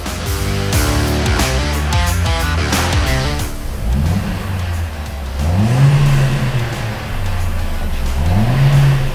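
A Mercedes-AMG A45S, running in front-wheel-drive mode on a dyno, revs hard. The engine is loud and close, rising through several pulls with sweeping pitch climbs and brief dips, and nothing else is heard.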